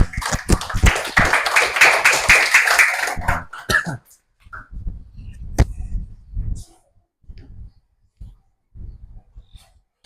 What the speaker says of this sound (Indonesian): Tepuk tangannya Amel.